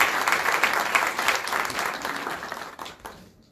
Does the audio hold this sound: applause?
yes